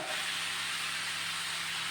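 Onions going into a hot pan for a chicken stew, giving a loud, steady hiss of sizzling that fills the whole moment without a break.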